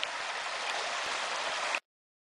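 Water of a creek running over stones on a hike in Red River Gorge, a steady close broadband rush without pause that stops abruptly.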